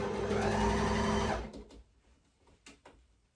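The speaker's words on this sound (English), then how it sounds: "just making sure that you don't sew all the way across" A sewing machine stitches bikini fabric in a fast, steady whir for about a second and a half, then stops, leaving a few faint clicks and handling noises.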